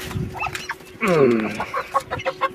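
A hen clucks close by, a run of short throaty clucks followed by a longer drawn-out cackle, then more quick clucks.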